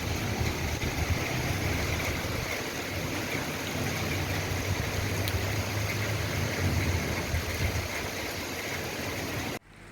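A vehicle arriving during heavy rain, its low engine hum running steadily beneath the dense hiss of the downpour before both cut off abruptly at the end.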